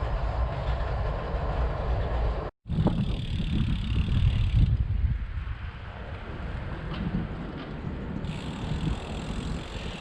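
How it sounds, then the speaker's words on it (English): A Kansas City Southern Lines freight train rolls past in a small town in Meridian, Mississippi, a continuous rumbling clatter of cars heard from nearby with wind buffeting the microphone and a brief dropout early on. "there's a Kansas City Southern Lines freight train"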